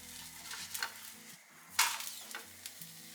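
Lakkottappam snack fries in a pan, a faint soft sizzle with a few light stirring and flipping scrapes, one sharper clatter midway, no talking.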